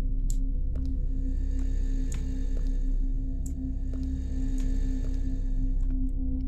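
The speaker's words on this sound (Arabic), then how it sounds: "ده صوت التلاجة بجد." Refrigerator hum in the video game The Apartment 57: a steady low electrical drone with a constant tone, joined by a few faint ticks and clicks, with no voices.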